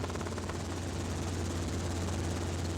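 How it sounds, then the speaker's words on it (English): A helicopter rotor drones steadily with a continuous, fast chopping throb and engine hum, loud and close, as from inside a helicopter flying over San Diego County toward Oceanside. "Down below you can see a helicopter with a rotor spinning."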